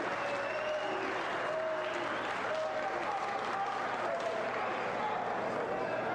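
A crowd at an ECW wrestling match cheers and applauds continuously, a dense wash of clapping and shouting with occasional whistles or yells standing out, while commentators talk over it.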